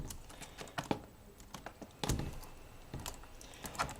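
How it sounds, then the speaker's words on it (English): Replacement keyboard on a Lenovo X230 Tablet laptop being slid and pressed down into its locking position, giving a quiet series of close plastic clicks and taps at irregular intervals, with a firmer snap near the middle. "So you just want to slide keyboard into its locking position, push it down, not much force."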